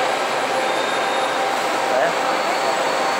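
A seven-car passenger train pulling into a station platform in Brazil, a loud, continuous rumbling roar with faint wheel squeal, heard close up and alone.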